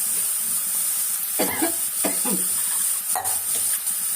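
Tomatoes sauté for rasam in a hot pan with a steady bright sizzle throughout, broken by a few distinct scraping and stirring strokes of a spoon against the pan, close by and with no talk.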